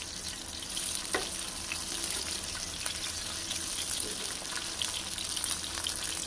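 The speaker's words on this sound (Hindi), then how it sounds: "हल्की आंच पे इसे फ्राई करेंगे।" Chapli kabab frying in oil over low heat, a steady close sizzle and crackle with occasional small pops, continuous and alone.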